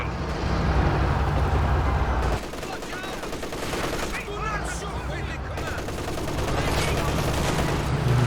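Machine guns trade fire in the real-time strategy game Company of Heroes 2, with dense, continuous bursts of automatic fire and overlapping battle noise. The firing stays loud and steady throughout, dips briefly, then swells again.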